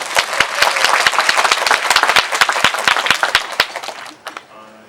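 Cinema audience applauding at a post-screening talk for the film Parasite, with loud, dense clapping that gradually thins to scattered claps and stops.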